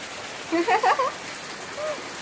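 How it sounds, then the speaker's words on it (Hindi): Rain water falls steadily outdoors as a constant hiss of drops, while a voice speaks briefly over it near the start. "देखो पानी कैसे गिरा थे।"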